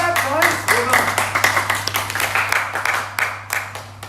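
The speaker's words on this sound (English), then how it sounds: "Give us a clap, guys." A small group at a youth anger program claps in a brief round, quick irregular hand claps with voices talking and cheering over them.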